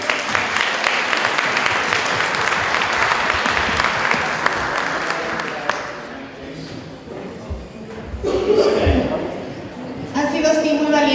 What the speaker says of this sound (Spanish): Y un aplauso a nuestras ponentes.